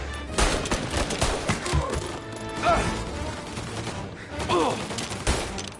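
Gunfire rings out in Mafia: Definitive Edition, a 1938 shootout with bursts of shots and sharp impacts crackling through the scene at moderate distance.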